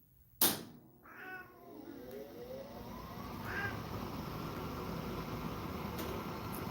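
A kitten gives a few soft meows after a sharp knock, set against a steady fan-like hum indoors, fairly quiet and with no talking.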